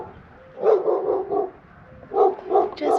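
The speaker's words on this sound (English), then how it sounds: "one scary wild dog over there that keeps barking" A wild dog barks in a quiet, almost deserted Mexican town, two bursts of several sharp barks each, a short pause between them, fairly close and alone with no voices.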